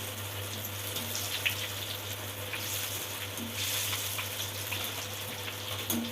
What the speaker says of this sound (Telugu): ఇలా వేగాలండి.